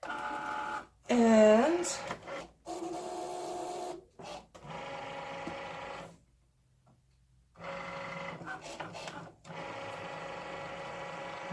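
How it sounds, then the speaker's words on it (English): A Cricut cutting machine runs in bursts of mechanical whirring and stepping motor buzz, close by, with brief pauses and a silent gap, while a voice speaks briefly at the start. "Now to put it in the Cricut"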